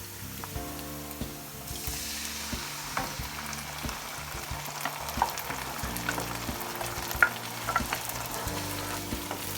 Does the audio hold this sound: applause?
no